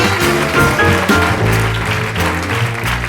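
Live audience applauding for a pianist at a club show, continuous clapping underneath sustained piano and band tones.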